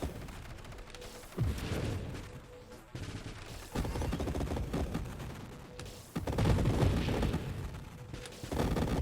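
Dense bullet fire from the co-op space shooter Nova Drift, a busy stream of shots and bursts that surges louder in waves over steady game noise, with no talking.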